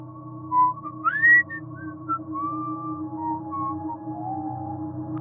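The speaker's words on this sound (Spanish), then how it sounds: "A exactamente las 3:03, escuchamos el silbido." A lone human whistle drifts through a quiet night at 3:03, thin sliding notes rising and falling faintly over a steady low hum, eerie and unhurried with no voices.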